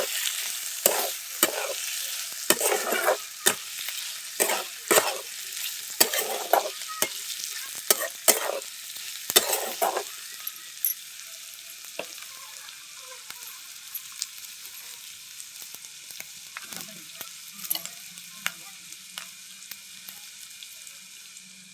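Bitter gourd vegetable stir-fried in a pan over a freshly lit wood-fired chulha: a run of scraping stirring strokes over soft sizzling for about ten seconds, then a quieter steady sizzle with only occasional light stirs.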